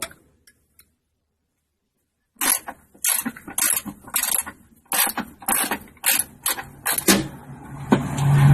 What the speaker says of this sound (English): With this 3/8 drive ratchet, you're going to want to use the pipe for leveraging